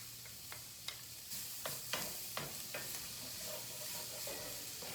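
Butter and shallot sizzle steadily in a skillet, a broad continuous hiss broken by a few sharp clicks and scrapes of stirring, close and fairly quiet, with no voices.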